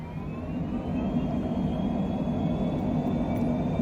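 An airplane in Microsoft Flight Simulator begins rolling forward on its own, a steady low engine rumble and drone that swells slightly and holds constant, with no voices.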